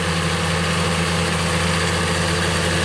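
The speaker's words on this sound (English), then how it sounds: "I'm running the smaller John Deere tractor, the 7130" A John Deere 7130 tractor engine runs steadily and loud at close range while side dressing corn with 28% nitrogen in a field in Darke County, Ohio, a constant low drone with no breaks.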